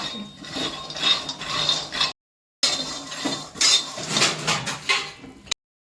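Peanuts are stirred in a pan over medium heat while roasting for chikki, with a spoon scraping and clinking against the metal in irregular bursts, close up, and one short silent gap.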